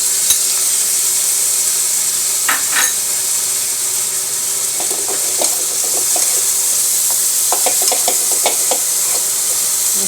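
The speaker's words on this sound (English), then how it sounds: "So we're just sauteing it very quickly." Broccoli and carrots are sauteed quickly for chow mein, making a loud, steady sizzle close up, broken by scattered clicks and scrapes of a utensil stirring the pan.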